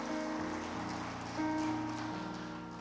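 Steady rain falls outside a church, a continuous soft hiss that fills the background beneath low hum and faint murmuring tones.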